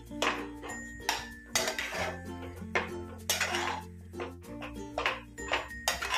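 Cashews and almonds being stirred in a pan while making rava ladoo, with close metallic clinks and scrapes of a spoon against the pan in an irregular rhythm, over a low steady background hum.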